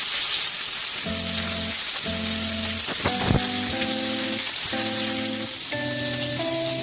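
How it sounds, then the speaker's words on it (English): Fish searing in a pot for Jamaican steamed fish, a steady loud sizzle of hot oil throughout, with a few clinks and a repeated tonal beeping over it. "Give it a nice sear on both sides."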